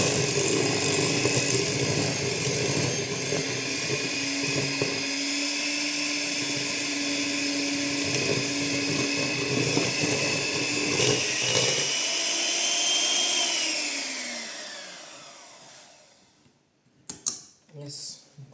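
An electric mixer beats muffin batter while eggs are added one at a time. A loud, steady motor whine runs for about thirteen seconds, then winds down and stops, followed by a few light clatters.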